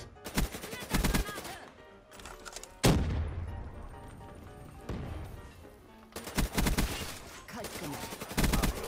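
Rapid automatic gunfire in Black Ops 3 comes in several loud, close bursts, separated by short gaps and a single sharp shot, with game sounds between them.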